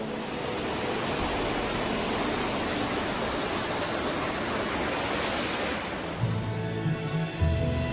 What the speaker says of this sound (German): Bei den Ilsefällen rauscht das Wasser der Ilse auf einem Streckenabschnitt von etwas mehr als einem Kilometer in mehreren Kaskaden